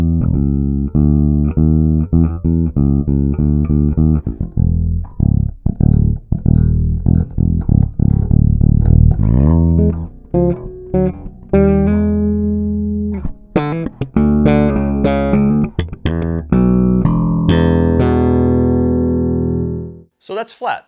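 A Skjold Gen 5 bass guitar in active mode with the EQ set flat is played loud and close, running through plucked low notes and higher runs in a quick rhythm before a final note rings out and fades.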